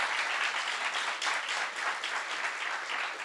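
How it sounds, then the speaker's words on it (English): Audience at a talk event breaks into sustained, even applause, a dense wash of many hands clapping with no voices over it. "First, we'll have to have a round of applause."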